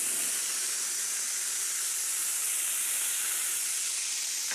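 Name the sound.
whiskey sizzling in a hot pan with steak juices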